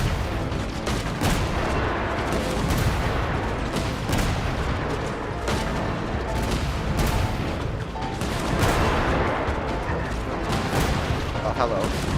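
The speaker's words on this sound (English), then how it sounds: "Bosco 2, prepare to fire. Oh, it's a cannon." Cannon fire in Genshin Impact booms in a loud, dense barrage of blasts and rumbling impacts, continuous over game music and effects, with a voice talking underneath.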